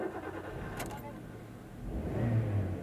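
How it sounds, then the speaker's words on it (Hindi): A Maruti Suzuki Swift Dzire with a K Series engine cranks and catches, then settles into a low, quiet idle that swells slightly near the end, heard alone at moderate distance. "ये गाड़ी स्टार्ट हो गई"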